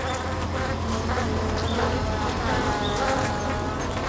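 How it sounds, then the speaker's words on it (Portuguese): A mass of honeybees vibrate their wing muscles around a trapped wasp, a dense, continuous buzzing hum, close and steady, with small fluctuations in pitch and intensity throughout. "Vibrando os músculos de suas asas, as abelhas estão cozinhando a vespa."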